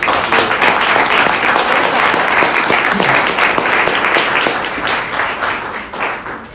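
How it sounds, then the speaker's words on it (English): A room full of people applauding steadily at a school board meeting for several seconds, the clapping dense and loud before tapering off slightly toward the end. "I would like to give them a round of applause"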